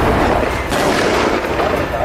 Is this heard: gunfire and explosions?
yes